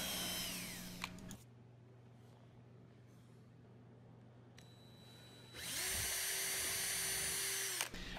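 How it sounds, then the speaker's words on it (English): A power drill pre-drilling pilot holes in walnut wood whirs in two short bursts, each spinning up and winding down, separated by several seconds of quiet room tone. "we have to pre-drill the holes for the feet"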